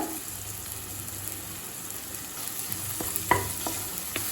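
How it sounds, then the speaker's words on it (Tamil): Tomatoes sautéing in oil in a pan give a quiet, steady sizzle, and a few sharp scrapes and taps from a spatula stirring come toward the end. "தக்காளி நல்லா சாஃப்ட் ஆகிற வரைக்கும் வதக்கிக்கலாம்"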